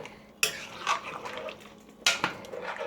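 A spoon stirs palava sauce in a pot, two sharp metallic clinks against the pot with scraping and wet sloshing between them, close and clear.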